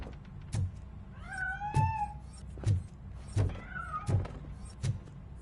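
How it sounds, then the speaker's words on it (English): Cat meowing repeatedly in Robocop: Rogue City, two clear rising-falling meows among several sharp knocks and thumps, fairly near and alone. "That cat must be hiding inside."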